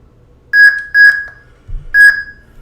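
Sharp electronic beeps from a toy lightsaber sound font sound in short bursts, a quick pair followed by another after a pause, bright and loud with a faint low hum between them.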